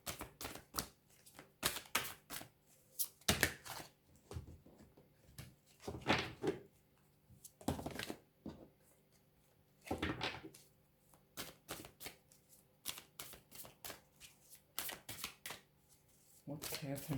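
Tarot cards being shuffled by hand, a steady series of close, crisp riffling bursts and soft slaps repeating for many seconds, with a faint voice at times.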